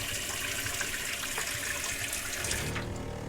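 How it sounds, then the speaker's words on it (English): A fresh water pump runs in a converted bus during freezing winter weather, giving a steady rushing, watery hum with no voices, then cutting out sharply near the end. "All right, so that's the pump."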